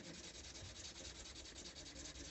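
Bassoon cane rubbed back and forth on sandpaper, a faint, close, continuous gritty scraping in quick even strokes, with no voices.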